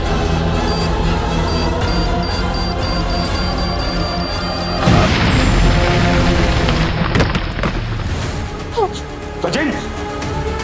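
In a Hindi TV crime drama, a loud boom erupts midway after tense dialogue, its rumbling blast and debris noise trailing off under music, with people speaking before and after.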